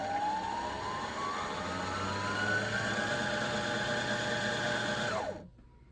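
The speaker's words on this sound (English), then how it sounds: "we're going to press on the foot controller and let it wind until the thread wraps around the core once or" A Brother CE1125PRW sewing machine winds thread onto its bobbin, a steady close motor whine that rises slightly in pitch, holds for several seconds, then winds down and stops.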